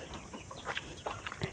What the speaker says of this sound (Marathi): हा बघ कोंबडा ही कोणाची कोंबडी